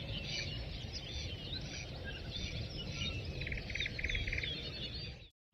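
Birds singing in a forest near a stream at around four in the morning, a dense chorus of chirps and trills with one repeated rapid call, steady and moderately close over faint low background rumble, cutting off at the end.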